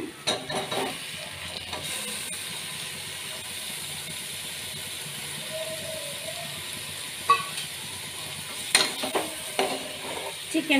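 Chicken being stirred into biryani masala in a pot, a steady low sizzle and hiss with occasional scraping and clatter of the spoon, fairly close and continuous with no talk.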